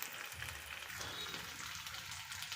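Fish fries on a tawa with a soft, steady sizzle and faint bubbling, close by but quiet, with no voices.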